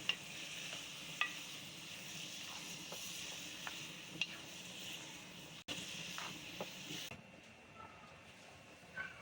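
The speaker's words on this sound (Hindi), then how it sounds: "पानी खुश्क हो रहा है इसका। तो इसकी भुनाई हम कर रहे हैं।" Grated pumpkin for halwa stirred and roasted in a pan, a continuous soft sizzle with scattered spoon scrapes and taps throughout, steady and close, fading slightly near the end.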